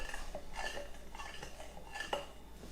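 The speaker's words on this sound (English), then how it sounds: "we're going to give all of this a stir" A utensil stirs pizza dough ingredients in a bowl, making rhythmic scraping and light clinking strokes that repeat steadily at close range, with no talk over them.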